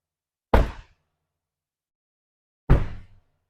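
Fire chief's Chevrolet Tahoe vehicle door shutting, two separate solid thumps about two seconds apart, close and fairly loud against silence.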